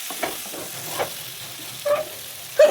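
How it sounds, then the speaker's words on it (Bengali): Salt, turmeric, cumin and chilli powder hit fish oil in a wok, giving a soft steady sizzle with light stirring scrapes and a couple of brief louder spits, fairly quiet and close, without talk. "মাছের তেলটা এবার কড়াইতে দিয়ে দিলাম, দিয়ে এবার দিচ্ছি লবণ, হলুদ আর জিরের গুঁড়ো, দিচ্ছি লঙ্কার গুঁড়ো"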